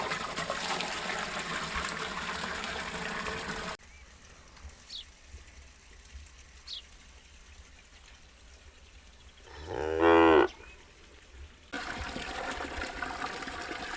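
A cow moos once at mid-distance, a loud harmonic call standing out over quiet outdoor ambience with faint bird chirps, near a spot where water in containers is set out for cattle.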